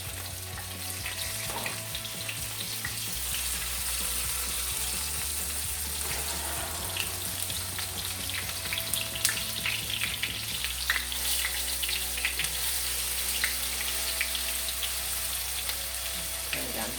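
Potato pancakes made from leftovers frying in a pan over medium-high heat, a dense, continuous crackling sizzle that stays loud and close throughout, with no voice over it.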